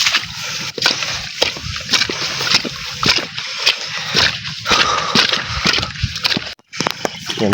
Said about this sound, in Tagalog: Yan, tubig na.